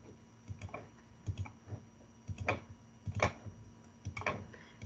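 Faint, close computer clicks come in scattered bursts under a quiet room hum, with no speech.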